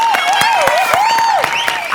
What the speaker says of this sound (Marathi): एकदा जोरदार टाळ्या द्या दोघांसाठी.